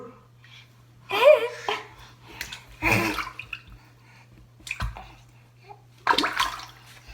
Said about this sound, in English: You can splash your feet. It's just water.